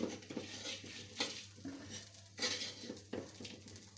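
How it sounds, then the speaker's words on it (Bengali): Bottle gourd frying in a pan with a faint sizzle under repeated clinks and scrapes of a spatula stirring against the metal, fairly quiet with no talking. "নামাই নিয়ে লাউটা ভেজে নেই।"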